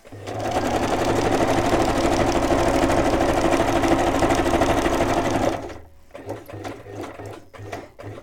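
A sewing machine stitches a folded paper envelope, its steady fast needle chatter running loud and continuous for several seconds before stopping, followed by a few quieter mechanical clicks and handling sounds.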